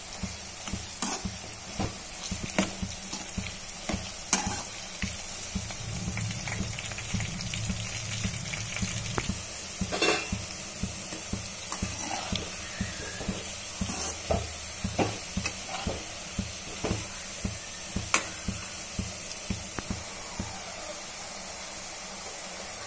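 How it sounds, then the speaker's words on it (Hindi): Soybean chunks stir-frying in a hot pan until brown, a steady loud sizzle broken by regular scraping strokes of the spoon throughout, with no talking. "हमें इसे ऐसे ही हिलाते हुए ब्राउन फ्राई करना है।"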